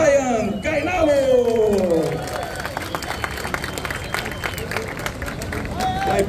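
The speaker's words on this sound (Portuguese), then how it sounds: "Uma salva de palmas para Ryan Carnalo!" A crowd at a surf festival awards ceremony claps and cheers for a surf champion, starting under an announcer's voice and continuing as dense, fairly close applause.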